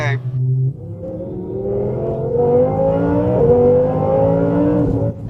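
Twin-turbo Audi R8 rated around 1,000 horsepower, its engine running close and steady with rising and falling harmonic tones as revs climb through the clip.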